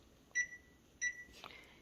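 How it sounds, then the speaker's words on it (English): A timer being set gives two short, high beeps about half a second apart, faint and clean in a quiet room. "I'm going to set my timer for 20 minutes"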